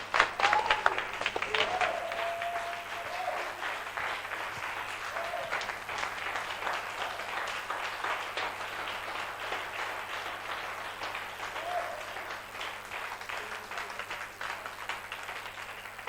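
A church congregation claps along in steady, dense applause that runs throughout, with faint voices and music underneath.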